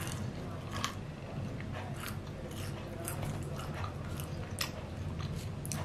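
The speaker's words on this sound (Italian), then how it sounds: "Sto qui che mastico" Close-up chewing of McDonald's food during a mukbang: soft, moist mouth sounds and occasional crisp bites recur through a quiet, steady background, with no talking.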